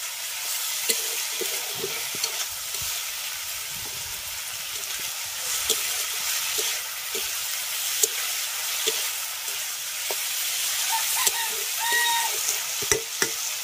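A wild flower fries with turmeric and salt in a pan, giving a steady soft sizzle with repeated stirring scrapes and clicks throughout, close and moderately quiet, with no talking.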